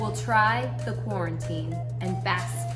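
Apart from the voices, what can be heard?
No everyday noise stands out behind the speech.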